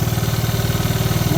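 A 1986 Honda TRX 70 ATV engine idles loud and close after years of storage, with a steady, rapid thumping pulse and no voices.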